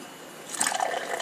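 Tecate Light beer pours from a can down the middle of a glass, a short, soft gurgling splash with a light fizzing trickle, close by and alone.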